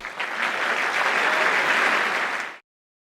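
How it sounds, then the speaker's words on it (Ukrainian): Dense, loud applause from a studio audience at a televised national song contest semi-final, a continuous wash of clapping that cuts off abruptly after about two and a half seconds. "Оплески, шановні глядачі."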